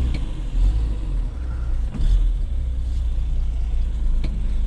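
A Datsun car pulls away in first gear, its engine a loud low rumble that swells as it starts moving, with a few faint clicks over steady road noise.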